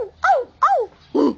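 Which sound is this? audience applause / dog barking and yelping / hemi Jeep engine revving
dog barking and yelping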